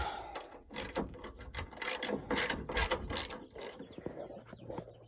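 A hand ratchet loosens the upper strut bolts on a 1983 Mitsubishi Starion, clicking in close, rapid bursts of strokes separated by short pauses, then trailing off at the end.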